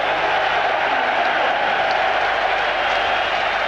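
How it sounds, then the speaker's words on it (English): A stadium crowd applauds Chelsea after the 1998 UEFA Cup Winners' Cup final against VfB Stuttgart, a dense, steady roar of clapping and cheering filling the ground at a constant loud level. "Chelsea being applauded all around the ground because their supporters are all around the ground"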